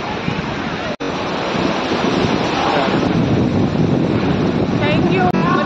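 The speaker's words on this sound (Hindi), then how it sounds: "लहरें देखिए इधर से उधर जा रही है" Ocean waves breaking on the shore at Dhanushkodi beach, a steady loud roar of surf mixed with strong wind buffeting the microphone, continuous throughout with a brief dropout.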